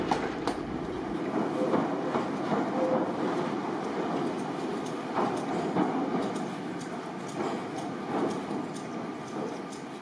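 A 1938-era former London Underground stock train running on the Isle of Wight rumbles along steadily and fairly close, with clickety-clack wheel beats and rattling carriages over ten seconds, and no voices.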